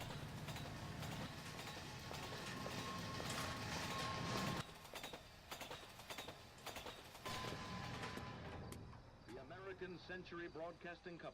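A train rumbles past in the LA Noire video game, a dense clattering mechanical roar with rhythmic wheel clicks, loud and close, mixed with game dialogue and sound effects.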